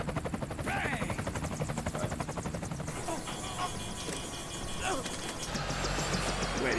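Helicopters in the video game Metal Gear Solid 4 drone loudly and steadily with a fast rhythmic rotor chop. Other game noises and effects are layered over it throughout.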